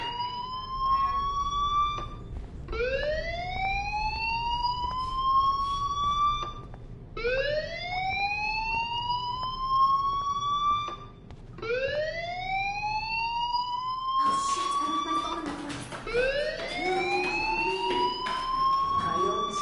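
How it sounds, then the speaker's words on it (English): Fire alarm wailing inside a school in the video game Life Is Strange, a loud electronic siren that rises in pitch in repeated sweeps, each about two and a half seconds long, with a harsher tone breaking in near the end and no talk. "do you hear that fire alarm? That means you should be outside."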